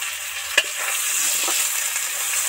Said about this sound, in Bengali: পেঁয়াজ আলু টমেটো সফট করে ভাজা হয়ে গেছে।